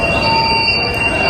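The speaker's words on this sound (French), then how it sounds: "le métro s'ouvre là, les gens vont sortir de cette station-là" A metro train on the Kunming subway in China squeals loudly as its wheels grind along the rails into a station, sustained high tonal screeching over a steady rumble, close and continuous.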